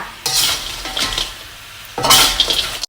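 Spoon scraping and stirring sugar-coated banana slices in a pan over the lowest heat, three bursts of gritty scraping with short pauses between, close and fairly loud.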